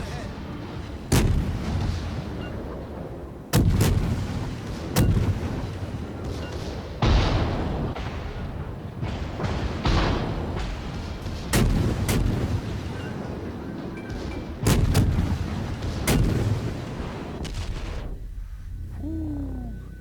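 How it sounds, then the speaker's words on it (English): Naval guns fire in World of Warships, a series of about eight heavy booms spread across the stretch, each with a rumbling decay, over a continuous background of battle noise. "He's doing a lot of damage to us."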